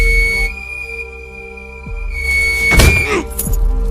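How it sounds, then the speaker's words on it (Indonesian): A steady, high whistle tone is held for about two and a half seconds and then cut off by a thud and a sliding squeal, as the whistle is blown to summon a pack of wolves. "Jack langsung berusaha mengambil peluit itu untuk memanggil kawanan serigala."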